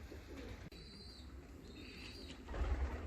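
Fancy and costume pigeons coo softly in a loft, a few faint calls drifting over steady low background rumble, with a louder scuffling burst near the end.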